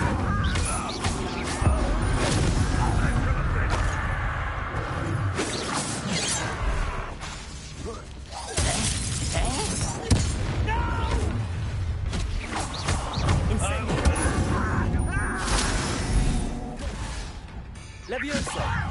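Incendio fire spells go off repeatedly in a Harry Potter video game, a loud, busy stream of whooshing blasts and crashes running through the whole stretch, mixed with shouted spell names.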